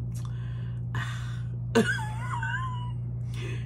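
A cat meows once with a drawn-out, wavering call, preceded by a few short soft sounds and a brief cough-like noise, heard fairly close over a steady low electrical hum.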